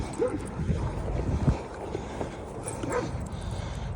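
A dog gives a few soft whimpers and yips amid steady outdoor rushing noise on a sub-freezing run by a river, faint and intermittent with no talking.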